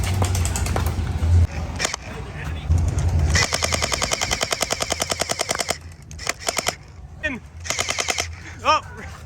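Orbeez gel blasters at an outdoor competition shootout, a rapid mechanical burst of evenly spaced pops lasting a couple of seconds, then shorter bursts and a few single shots, close and loud.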